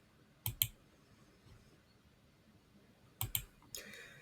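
Mouse clicks while publishing a custom button command in a Power App, arriving as two close pairs of sharp, quiet clicks about three seconds apart, then one more soft click, over faint room hiss.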